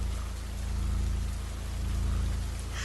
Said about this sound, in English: the rain bombarding the windows and the wind risking to rip my door off